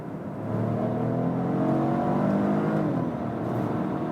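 A Volvo XC40 T5 Twin Engine plug-in hybrid with a 1.5-litre three-cylinder accelerates hard from 50 to 100 km/h in power mode, its engine note rising steadily and sonorously from inside the cabin.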